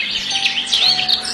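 A condor call sounds as a quick series of high, close chirps that rise and fall in rapid succession.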